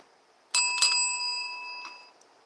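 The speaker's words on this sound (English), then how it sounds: "Ring the bell." A bell rung outdoors: two quick bright metallic strikes, then a clear sustained ring that slowly fades, with a faint extra tap near the end.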